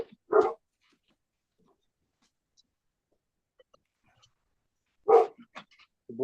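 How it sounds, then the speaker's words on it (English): Two sharp dog barks, several seconds apart, in an otherwise quiet room, moderately close. "I don't know if you guys can hear them barking"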